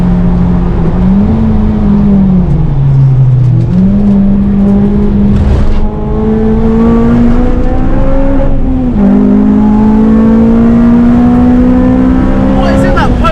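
A Volkswagen Polo GTI racing around Snetterton circuit, its engine droning loud and steady with pitch climbing and dipping through gear changes across the whole stretch, close and continuous.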